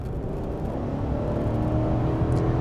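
A 2021 Chevy Silverado 1500 LT Z71 with a 5.3-liter V8 and 8-speed transmission accelerates after a slight delay, a fairly quiet, steady low engine hum with a faint rising tone heard from inside the cab.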